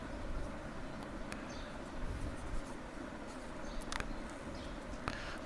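Pen scratches on paper while a line's slope is written out for a class 9 maths exercise, soft, close scribbling strokes with a few sharper ticks over faint background hiss.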